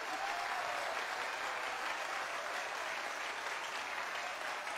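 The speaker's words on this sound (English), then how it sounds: "I need you ladies to give yourselves a round of applause." Sustained applause from an audience of performers clapping for themselves, dense and steady throughout, fairly loud and alone without talk.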